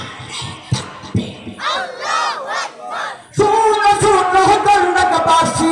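A large outdoor religious gathering roars the takbir chant in unison, a loud sustained wall of massed voices answering a leader's short call, with clapping-like bursts before it.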